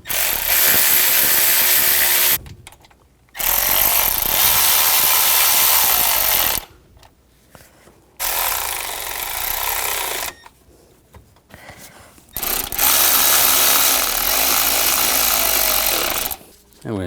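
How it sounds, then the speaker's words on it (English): A power tool runs down knock sensor bolts on a 2004-2009 Audi A4 Quattro 2.0L I4 in loud, harsh bursts of two to three seconds, separated by short pauses. "Now we're going to tighten these down."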